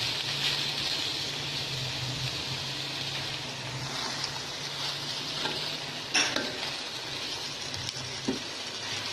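Crushed black pepper, spices and salt are stirred in a frying pan, with a continuous hissing sizzle and scraping stir strokes close up, plus a few sharper knocks.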